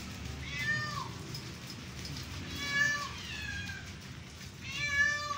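Angora cat meowing while being bathed at a salon, three drawn-out, rising-and-falling meows spaced a couple of seconds apart over a steady low background hiss.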